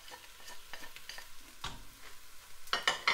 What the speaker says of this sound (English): And stir that for a minute now.